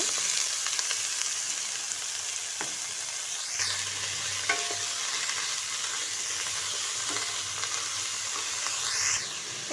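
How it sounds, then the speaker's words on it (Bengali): Pumpkin stems are tossed into hot mustard oil, giving a steady loud sizzle and hiss with occasional scraping of a spatula stirring them in the pan, close up and without talk. "তেল গরম হয়ে গেছে, এবার এতে দেব কুমড়োর ডাঁটাগুলো।"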